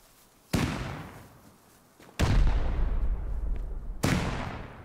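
Rocket launcher shots in the video game Rust: three sharp, loud blasts spaced about two seconds apart, each trailing off into a long, rumbling decay.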